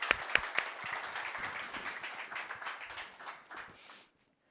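A room of listeners applauds to welcome a speaker at a seminar on innovation, moderately loud clapping from many hands, a few sharp claps up front, then thinning out and stopping abruptly near the end.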